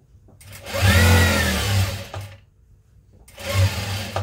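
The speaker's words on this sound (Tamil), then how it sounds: "சென்டரில் வந்து ஒரு ஸ்டிச் பண்ணிக்கோங்க." A sewing machine runs in two bursts as it stitches the centre of a blouse back neck, a close whirring hum that stops briefly and then starts again.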